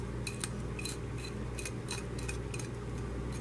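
A spoon stirring brandy peach conserve in a bowl, making light rhythmic clinks and taps about twice a second over a low steady background hum, close and fairly faint.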